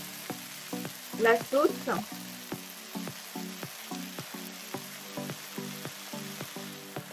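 Soy vermicelli and chicken stir-fried in a pan, with a steady close sizzle and regular spatula scrapes and taps in a loose rhythm, plus a brief spoken phrase near the start.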